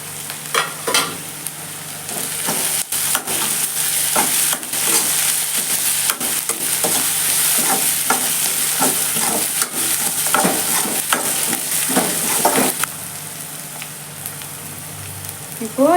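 Onions sauté in a pan for prawn rice, a continuous close sizzle broken by many sharp clinks and scrapes as the spoon stirs them, with the stirring easing off near the end.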